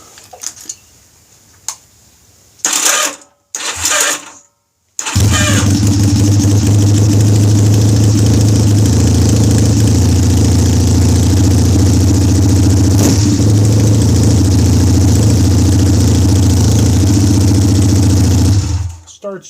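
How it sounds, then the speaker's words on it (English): Honda Rebel motorcycle engine idling after its gelled carburetor was cleaned, a loud steady mid-pitched rumble running close-up for most of the stretch, preceded by a few short handling noises and brief silences. "I think I got the motorcycle running pretty good."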